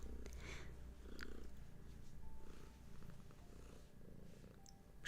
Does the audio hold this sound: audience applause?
no